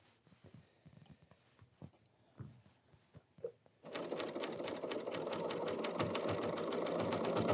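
An overlocking serger finishes a ruffle pillow, first some quiet handling and clicks, then the motor starts and runs in a fast, steady, loud mechanical whir with rapid stitching pulses to the end.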